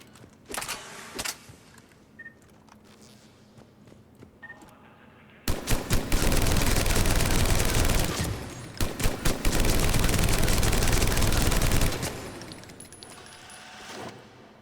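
Typhoon rapid-fire weapon from Mass Effect 3 shooting at practice targets, a few short bursts followed by a long sustained loud volley of rapid automatic fire, then a second heavy stretch before tapering off.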